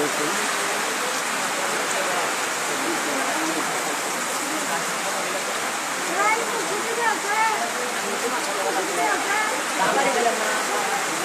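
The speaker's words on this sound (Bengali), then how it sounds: "এই মুহূর্তে প্রচুর বৃষ্টি হচ্ছে পাশাপাশি জোরও হাওয়া বইতেছে" Heavy rain roars steadily with a dense hiss, gusts of wind swelling in the background; a voice speaks faintly underneath.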